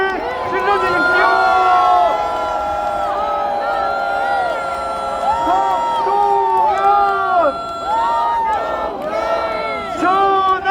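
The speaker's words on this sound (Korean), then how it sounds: "함께 호응하고 승리의 함성을 질러주십시오." A large crowd at a rally for the launch of a presidential defense team in Seoul's Cheonggye Plaza cheers and shouts in victory, a loud, sustained roar of voices and whoops with rising bursts of shouting throughout.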